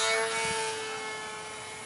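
Inside a small airplane flying on instruments, the engine drones as a steady, loud hum with a constant tone throughout and no voices.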